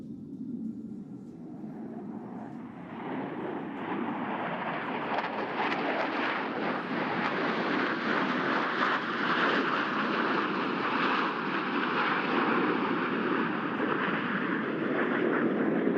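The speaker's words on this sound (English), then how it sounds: "All 4 aircraft flying as one in this graceful 360-degree rolling maneuver." Four Blue Angels F-18 jets flying the Diamond roll at a Naval Air Station Oceana air show make a loud, building jet roar that swells and holds as a broad, continuous rushing rumble with wind buffeting, no voices.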